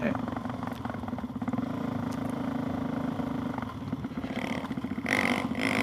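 A brand-new Suzuki DRZ400SM motorcycle fitted with a knock-off FCR 39 carburetor runs with a rough, pulsing engine note that rises under acceleration. People talk over it, and a brief louder burst comes near the end.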